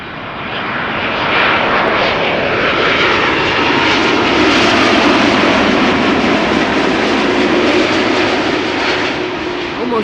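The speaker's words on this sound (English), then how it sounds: "Air Canada Flight 808 7879 Dreamliner arriving from Toronto" Air Canada Boeing 787-9 Dreamliner landing at Schiphol, a loud sustained jet roar that swells and holds as the aircraft passes nearby.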